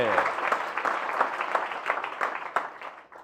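Applause from an audience at a devotional lecture, a steady wash of many hands clapping throughout, fairly loud and close, fading slightly at the end.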